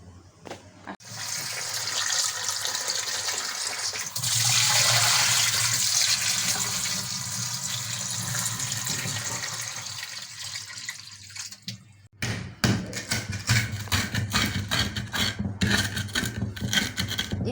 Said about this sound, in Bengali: এই বেগুনগুলো ধুয়ে নেব